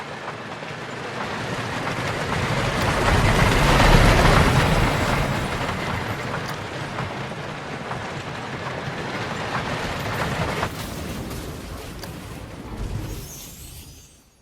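A wooden roller coaster train in Planet Coaster runs along its track, a long rumbling roar with rattling clatter that builds to a peak early, holds steady, then fades away at the end, with no voices.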